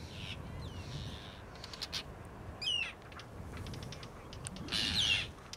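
Arctic terns calling outdoors, a few sharp chirping and scratchy cries scattered over steady background noise, including one louder, harsher call near the end, with no talk.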